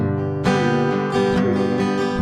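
A guitar picks out a bass line in the low register, each note struck cleanly and left ringing in a steady beat, about five plucks close up and alone with no voice.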